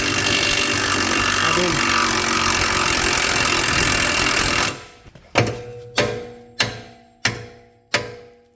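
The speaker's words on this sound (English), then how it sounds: "tap it with a hammer to get the studs out there" Sharp metallic hammer blows on seized wheel studs during front air strut replacement on a 2003–2012 Range Rover L322: five loud, evenly spaced strikes ringing out after a stretch of steady, loud broadband workshop noise.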